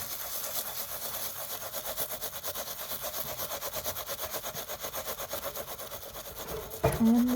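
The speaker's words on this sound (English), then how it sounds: "And just scrub." A copper scrubby with dish soap scrubs a dish in a steady, rapid back-and-forth rhythm that is close and fairly loud, ending with a brief clatter.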